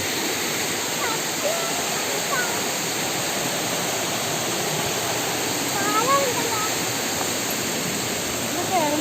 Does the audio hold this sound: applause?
no